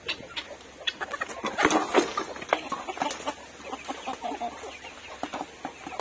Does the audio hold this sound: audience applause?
no